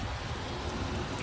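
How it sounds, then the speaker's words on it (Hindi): Steady rain falling during a brief downpour, a dense, even hiss of drops throughout, with no voices. "इतनी सी तो बारिश थी ये, 2 मिनट की बारिश, और इतना सारा भिगा दिया हमें।"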